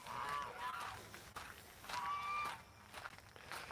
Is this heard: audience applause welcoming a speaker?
no